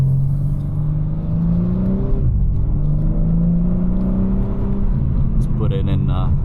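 A 2024 BMW M4 Competition drives at night, its exhaust and engine humming loudly and rising as it accelerates through gears, with a voice speaking over the drive.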